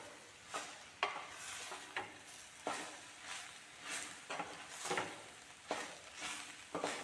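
A spoon scrapes rhythmically through a grated jackfruit and coconut mixture in a pan, with roughly one stroke per second over a faint, steady sizzle, heard close up with no talk.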